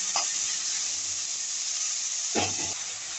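Red capsicum stir-fries for a chicken spring roll filling, a loud continuous hiss of sizzling oil broken by two short scraping bursts of stirring.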